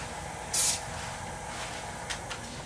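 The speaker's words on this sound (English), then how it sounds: "One light spritz from the glue dry." A single short spritz of spray accelerator hits a glue finish on an acrylic pen blank, a brief loud hiss standing alone, followed by faint light clicks.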